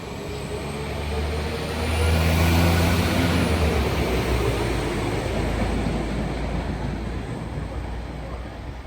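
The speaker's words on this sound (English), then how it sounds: "Passing through is 70-002 at Nuneaton." British Rail Class 70 locomotive 70-002 passing through Nuneaton station on the West Coast Main Line, a loud sustained diesel roar and rumble that swells to a peak and stays strong as it goes by.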